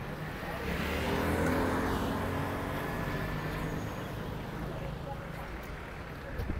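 Cars move around the Lat Dior bus station in Dakar, a near engine rumble and passing traffic that swell and fade, with people talking in the background.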